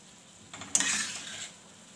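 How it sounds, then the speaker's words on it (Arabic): A spoon scrapes and stirs onion and pepper in a pan, a faint, brief swirl of clinking and scraping lasting under a second, alone in a quiet kitchen. "نبقاو نحركو بحال هكا حتى تذبل لينا نشرب هذاك الماء اللي تلقاه في البصله والفلفله"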